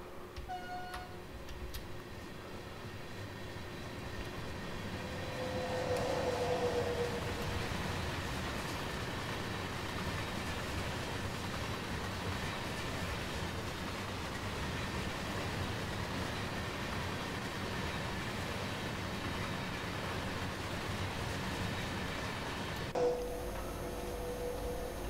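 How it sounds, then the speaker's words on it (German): A freight train passes in Train Sim World 4 as the DB class 185.2 locomotive waits, producing a long rolling rumble with rhythmic wheel clicks that swells and stays steady throughout, with no talking. "So, lassen wir den Zug einmal an uns vorbeifahren."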